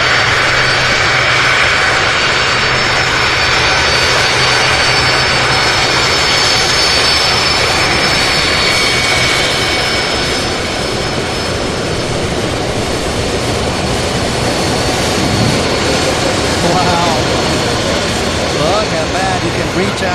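Jet airliner, a 767, taxiing on an airport taxiway very close by: a loud, steady engine roar and whine filling the whole stretch, with faint talk beneath it.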